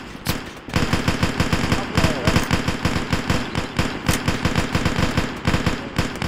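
Rapid machine gun fire in an infantry combat video game, a loud continuous stream of closely spaced shots after a short opening burst, with other gunfire mixed in.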